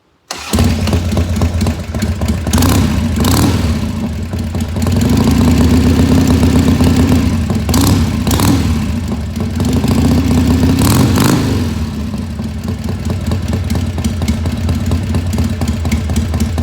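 A 1988 Harley Davidson Sportster 883 motorcycle cranks and fires up, then settles into a loud, close, lumpy idle with a few throttle blips and mechanical clatter.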